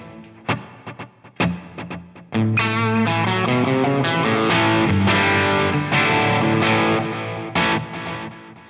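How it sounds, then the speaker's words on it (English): Electric guitar solo patch with stereo delays, a dotted eighth on one side and a quarter note on the other, sending a few picked notes and then a dense, washy wall of repeating echoes. "So that's a dotted eighth on one side and a quarter note on the other side."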